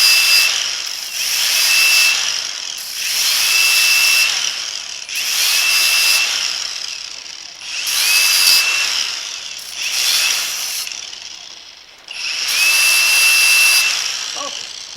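A power tool grinds paint off a metal piece to prepare it for welding, outdoors on a rainy day. It comes in five loud bursts of a few seconds each, with short pauses between them.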